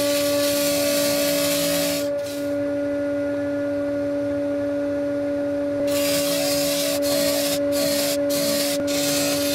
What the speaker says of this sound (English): Now I'm just going to take these to the disc sander and I'll give them a bit of a shape up.